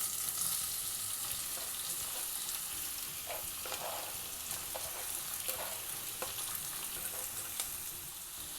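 Chopped small onions sizzle steadily as they fry in oil for a Tamil chicken thokku, with a continuous hissing crackle and occasional soft stirring scrapes, close and with no one speaking.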